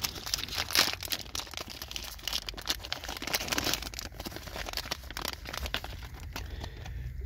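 Packs of 2022 Panini Select Draft Picks football cards being torn open, with close, continuous crinkling and tearing of foil wrappers in uneven bursts.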